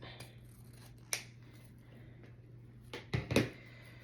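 Scissors snip through wired ribbon while a Dollar Tree Christmas tree swag is being made: one crisp cut early, then two quick close snips near the end, all near and fairly quiet in a still room with no talking.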